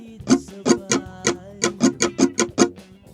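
Acoustic guitar strummed in a steady triplet stroke pattern for a song, about ten evenly spaced chord strokes ringing close and clear with no talk over them.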